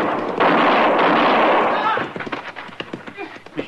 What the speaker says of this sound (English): he missed me. But he was shooting mighty close